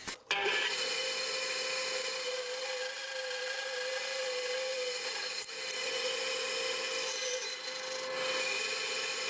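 Plywood cut near a joint for an oak casement window gives a loud, steady machine-driven cutting roar that runs continuously and close, with a brief dip and restart partway through.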